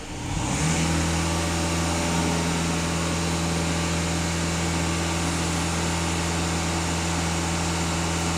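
Skoda Kodiak 2.0 TDI EA288 diesel engine revved hard at full throttle, rising from idle into a loud, steady high-rev drone held close by for several seconds.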